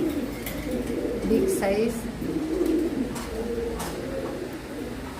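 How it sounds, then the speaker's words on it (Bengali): A pair of Mili racer pigeons, both male, coo in repeated low, throaty phrases close by, while someone talks over them and faint chirps sound in the background. "মাশাআল্লাহ কবুতর জোড়াটি খুবই ভালো"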